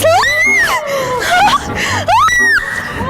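Shrill, rising and falling screams from a person on a ride at a night-time amusement centre, several cries over a few seconds, loud and close, with laughter mixed in.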